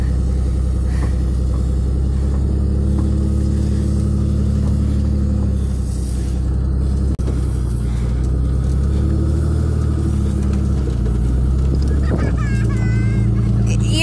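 Pickup truck engine droning loudly and steadily while it tows a sled across a snowy field, with a deep continuous rumble that shifts pitch as the truck speeds up and slows down.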